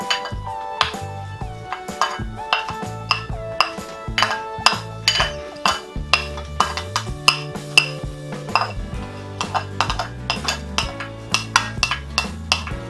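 A spoon clinks steadily against a bowl while tuna kinilaw is mixed with chopped ginger, a rapid rhythm of bright taps over background music.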